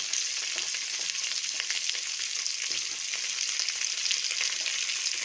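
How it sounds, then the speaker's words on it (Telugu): Tomato pieces frying in hot oil for an Andhra-style sambar, giving a steady, dense hiss of sizzling with no pauses, close and even in loudness. "ఇందులోనే టమాటా ముక్కలు వేస్తున్నాం"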